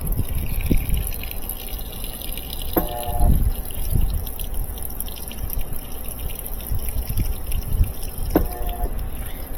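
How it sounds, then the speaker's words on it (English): Water fills a Maytag washer after its water valve was replaced, a steady rushing flow with dripping and trickling, constant and close throughout with a couple of brief tonal clicks. "I hear a lot more water going in than was going in."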